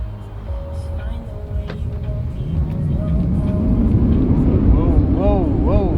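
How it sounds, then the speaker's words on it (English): A BMW i3 electric car being driven, with steady low road and cabin rumble throughout and people talking inside the car over it. "here's Andrea's first time driving the BMW i3"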